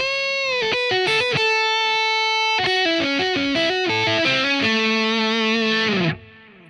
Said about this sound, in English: So let's look at a major pentatonic scale lick. It sounds like this.